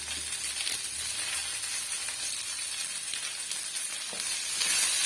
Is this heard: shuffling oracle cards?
no